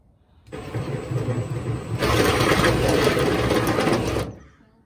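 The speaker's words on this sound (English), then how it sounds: "Drill through my brand new hood." A power drill bores through the new hood of a Squarebody truck, starting as a moderate whir for a second and a half, then rising to a louder, grinding pitch for about two seconds before cutting off.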